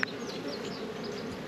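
Honeybees buzz steadily inside a nuc box full of brood, a dense close hum with no pauses and no one speaking.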